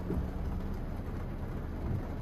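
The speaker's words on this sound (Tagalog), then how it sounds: "Malakas ang ulan no. Bagyo kasi ngayon, linggo." Heavy typhoon rain heard from inside a car on EDSA in Mandaluyong, a steady dense roar drumming on the vehicle with low rumbling underneath and no talk.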